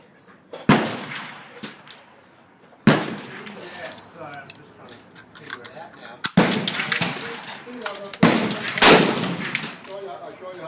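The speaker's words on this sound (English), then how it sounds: "we've got the 55 grain Hornady VMAX, 5 shots there at 100 yards" Sharp reports from an Anschutz Model 1770 rifle in .223 firing 55 grain Hornady VMAX ammunition outdoors on a farm, several separate loud cracks spaced seconds apart, each trailing off in an echo, with faint talk between shots.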